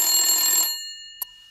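A telephone bell rings brightly and close for a short burst, then cuts off and decays into silence, followed by one faint tap.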